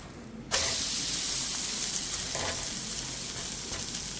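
Crab frying in a pan on a low flame. After a quiet moment it is flipped over and breaks into a sudden loud sizzle, then a steady hissing fry with a couple of brief flare-ups.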